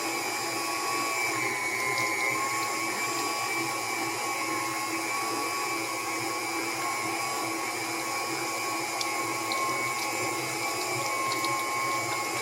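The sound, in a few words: meat grinder grinding chicken scraps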